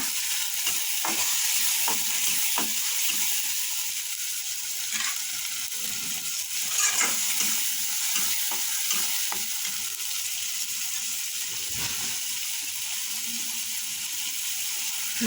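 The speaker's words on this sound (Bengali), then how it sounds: "ভালোভাবে কষিয়ে নেব মশলাটা" Spice paste frying in a pan for a singi catfish bhuna, a constant close sizzle broken by frequent scraping stirs of a spoon against the pan.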